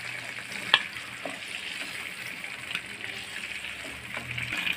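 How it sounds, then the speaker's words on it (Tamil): Fish sizzling and frying in oil in a pan, a steady moderate crackle with a few louder pops and faint stirring, no talking. "இப்போ ஃபிஷ் இந்த அளவுக்கு ஃப்ரை ஆனோன்னு எடுத்துடலாம்."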